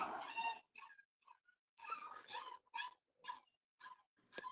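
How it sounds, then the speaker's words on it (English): A puppy whimpering and whining in the background, a series of short high-pitched cries and yips broken by brief silences, faint and somewhat distant. "hearing that puppy in the background"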